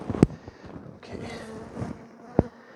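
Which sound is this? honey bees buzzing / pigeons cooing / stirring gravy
honey bees buzzing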